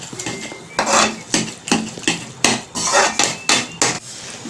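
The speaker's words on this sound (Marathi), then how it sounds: "अजून थोडा टाइम थोडं मॅश करून घ्यायचं आहे" Cooked eggplant for baingan bharta is mashed in a pan with a utensil, giving a string of regular, close knocking and scraping strokes, about two per second, with no voices.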